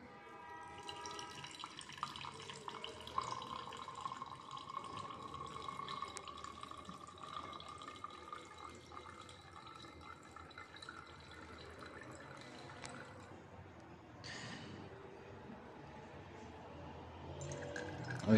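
Liquid trickles and drips quietly as the aqueous layer drains from a separatory funnel in a lab, a faint continuous pour with small splashes near the end.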